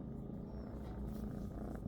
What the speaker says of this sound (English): She's just a kitten.